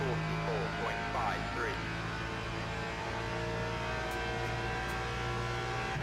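Race car engine sound from the sim racing game Le Mans Ultimate at Barcelona, a continuous loud engine drone with rising and falling revs and gear-shift sweeps throughout, steady and close without pauses.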